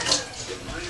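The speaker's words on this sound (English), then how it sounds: "I will add the rest of the water in the sink in my container" Sink water rushes into a container in a home kitchen, a loud, close, continuous splashing fill lasting about a second.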